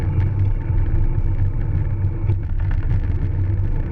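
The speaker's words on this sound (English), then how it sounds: "the car is speeding up to pass" A car speeds up to pass a cyclist on the road, a low rumbling engine drone close by, steady and moderately loud for a few seconds.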